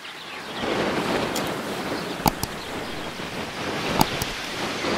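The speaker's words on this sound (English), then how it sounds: "It's a bit windy." Wind gusts across a garden in France, a steady broadband rush with buffeting against the microphone, with a couple of brief sharp clicks.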